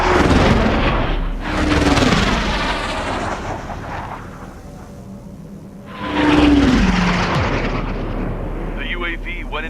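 An unmanned aircraft in the Ace Combat 7 video game roars past in two loud, rushing swells of jet noise with a low rumble underneath, a voice speaking over the engine sound.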